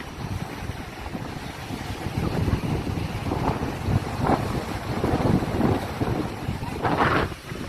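Strong wind buffets the microphone on a sandy beach at Mu Ko Lanta National Park, a steady low roar that swells into louder gusts, with surf and sea faintly underneath and no talking.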